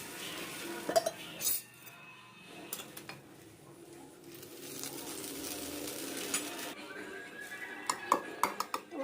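Beetroot and carrot dosa batter is worked on a metal pan, giving close, repeated clinks and scrapes of a metal ladle against the pan, with a soft steady sizzle underneath and almost no talking.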